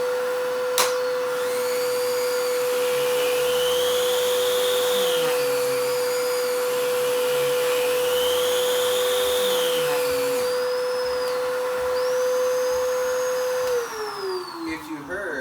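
Upright vacuum cleaner with its nozzle attached runs steadily and loudly, its pitch dipping and rising as the brush roll speeds up, then winding down near the end; no talk is heard.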